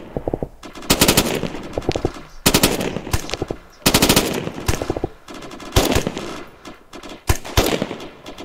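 Automatic gunfire in the military video game Arma 3, repeated loud bursts of machine-gun fire in roughly four separate volleys with brief gaps between them, no talk.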